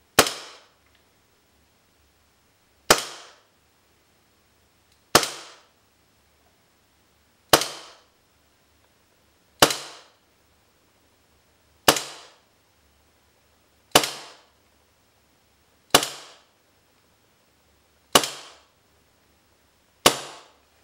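Ten sharp, evenly spaced shots from a propane-powered KJW KP-06 airsoft pistol firing through a chronograph, each a crisp crack with a short decaying tail, about two seconds apart, close and alone in a quiet room.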